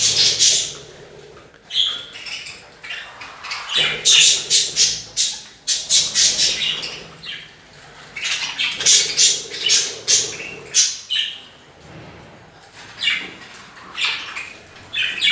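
Budgerigars in a cage with their chicks chirp and squawk steadily at close range, bright overlapping calls rising and falling in busy bursts, with faint rustling and flutters.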